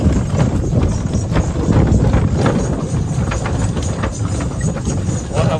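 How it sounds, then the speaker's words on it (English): Horses' hooves clip-clop on an island path in the Gili Islands area of Indonesia, a dense, continuous patter of many hoofbeats close by, loud and busy, with no talking. "Get familiar with these horses, boys."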